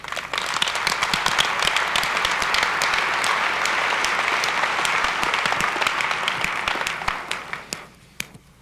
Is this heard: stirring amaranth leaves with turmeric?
no